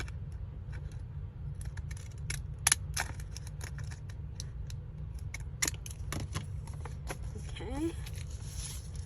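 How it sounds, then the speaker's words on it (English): Scissors snip through a junk mail paper tag in a series of short, crisp clicks and crunches spread over a quiet background hum. "I'm going to go ahead and cut it. I think we'll cut it right here."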